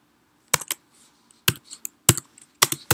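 Keys tapped on a Mac computer keyboard, close and crisp, in short clusters of clicks with brief pauses between them and no talking.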